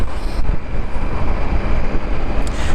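A 2023 Triumph Tiger 900 motorcycle engine in sport mode, heard as a loud, steady, full-band roar of engine and wind noise throughout, with a brief dip near the start and no speech.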